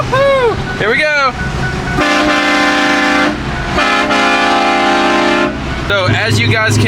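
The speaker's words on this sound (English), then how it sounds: "my factory horn, whenever I poke it, it is now a train horn" A loud, blaring multi-tone train horn mounted on a Ford F250 pickup truck sounds in several long blasts, with engine rumble and voices cheering between them.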